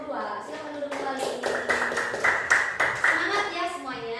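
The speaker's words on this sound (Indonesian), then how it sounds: "Tepuk tangan untuk kelompok 2" A classroom of students claps for a group, a dense burst of applause of many hands lasting a few seconds, with children's voices underneath.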